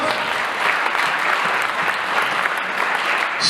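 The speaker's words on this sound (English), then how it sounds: "Huge round of applause." Audience applause fills the room, a steady dense wash of many hands clapping at a school post-prom event, sustained and loud throughout with no talk over it.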